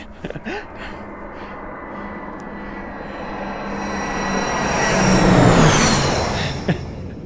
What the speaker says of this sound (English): Whoa, plane coming in.